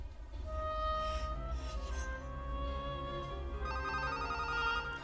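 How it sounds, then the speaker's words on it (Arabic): A telephone rings with a repeating electronic tone over a background of dramatic music, moderately loud and steady for several seconds. "ردي على التليفون"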